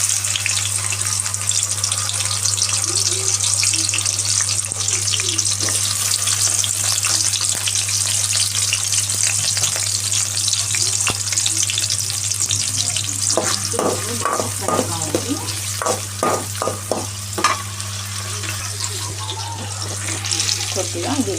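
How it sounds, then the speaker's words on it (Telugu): Onions fry in oil, a dense steady sizzle close by with a low constant hum beneath, and clinking stirring strokes toward the end, with no talking. "ఇప్పుడు దీంట్లో కొద్దిగా ఆయిల్ వేసి ఆనియన్స్ వేద్దాము."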